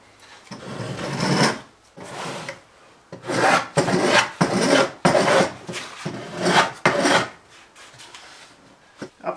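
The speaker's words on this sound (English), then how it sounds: "The spoke shave is the most effective tool for this job." A spokeshave shaves wood while a guitar is being built, giving repeated rasping strokes in an uneven rhythm, close and fairly loud, with short pauses between passes.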